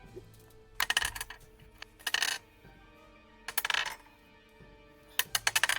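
Dice rattling and clattering across a table during a Dungeons & Dragons tabletop session, in four separate bursts of sharp rolling clicks with quiet gaps between them.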